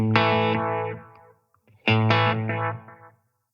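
Two distorted guitar notes ring out through a Wampler Metaverse delay pedal, each followed by a darker, muffled echo trail that fades quickly.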